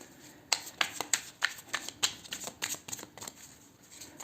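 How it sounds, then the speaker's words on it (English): A deck of tarot cards is shuffled by hand, a quick series of crisp riffling bursts and soft slaps, close up and fairly loud, with no speech. "I have actually already shuffled the cards, but I'm just gonna do it again."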